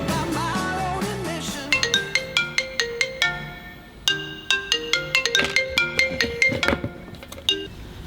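A phone ringtone plays for an outgoing call, a sequence of bright plucked electronic tones in a bouncing melodic pattern, fairly close and alone with no talk.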